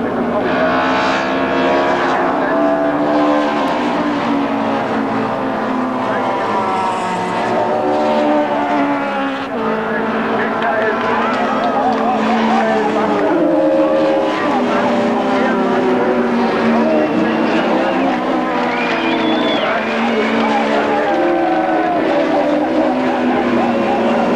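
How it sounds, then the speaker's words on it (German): Audi Quattro and BMW rally cars race neck and neck, engines droning and wailing through shifting revs in a continuous loud roar, with a voice talking over the engine noise. "Tension rose to fever pitch as these two Audi and BMW drivers duelled for the lead, their cars neck and neck"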